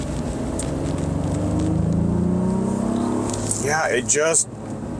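A three-row SUV engine pulls hard, its rising harmonic drone holding gear for several seconds at close range, then easing off as a voice speaks briefly near the end.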